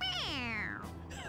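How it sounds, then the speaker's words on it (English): A stuffed toy cat in Persona 5 Royal gives a single loud, drawn-out meow with a falling pitch when its head is pressed, heard clearly on its own. "It meows when you press on its head."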